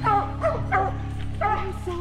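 A hunting dog gives short, close yips and barks amid hound activity outdoors. They sound in quick bursts and mix with a low background rumble.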